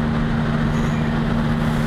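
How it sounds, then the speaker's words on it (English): A truck passing on the road produces a loud, steady engine drone and road rumble inside a vehicle, constant throughout the brief moment with no speech. "Every time a truck goes by, it completely obliterates the windshield."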